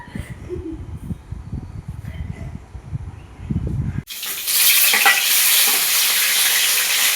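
Spicy semolina (jhal suji) cooking in a home kitchen, heard first as scattered knocks and scrapes of stirring in a pan, then a sudden loud, steady sizzle for the last few seconds, with no talk.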